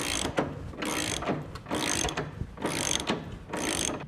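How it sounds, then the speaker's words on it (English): A ratchet wrench works loose the fasteners holding a motorcycle fender, with close, rapid clicking bursts repeated in about five even strokes and short pauses between them. "go ahead and remove the 4 fasteners that drop the fender"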